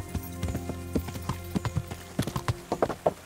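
Rhythmic hoofbeats of a tiring horse galloping in the video game Kingdom Come: Deliverance, crisp repeated clip-clops quickening slightly, clear and close with no voices.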